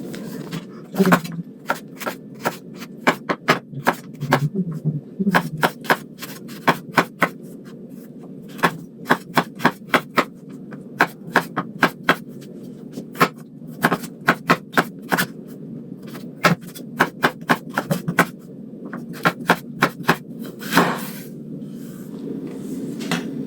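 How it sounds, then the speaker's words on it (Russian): Rapid, continuous knife chopping as carrots are cut into strips on a wooden board, dense runs of sharp taps with brief pauses, close and fairly loud over a low room hum. "морковку нарезаем соломкой"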